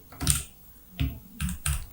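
A command is typed on a computer keyboard in the VS Code terminal: a few distinct clusters of crisp key clicks, close and fairly loud, with short pauses between them and no talk.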